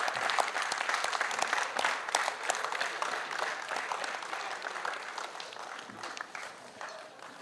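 Audience applauding Team InfoStretch, the winning team at a corporate award ceremony, dense steady clapping from a crowd that holds for several seconds and slowly tapers.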